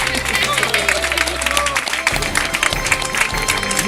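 Wedding guests applaud the newlyweds with scattered clapping amid crowd chatter and babble, over low background music that cuts out midway.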